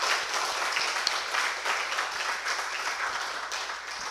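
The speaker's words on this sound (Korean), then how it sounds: "우리 모든 분들을 환영하는 의미에서 큰 박수를 함께 나누겠습니다" A church congregation claps steadily to welcome a newly married couple during a worship service, a moderately loud, even wash of applause throughout.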